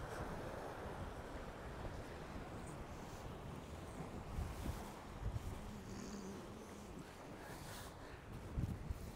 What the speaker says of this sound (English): that wind's a pain in the arse, like.